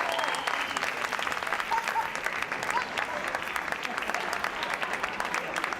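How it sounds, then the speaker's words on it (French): Strong, continuous audience applause at a live show, dense, even clapping that holds steady for several seconds with a few voices faint underneath. "Pour les applaudir bien fort, s'il vous plaît."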